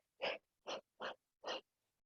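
During a chair yoga flow, a breath is blown out bit by bit in four short, soft puffs, evenly spaced and close, with silence between them.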